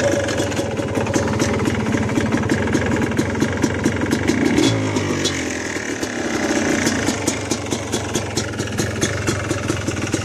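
A cold motorcycle engine idles before warming up, its steady, rough, rhythmic chugging loud and close throughout, with the beat wavering slightly midway.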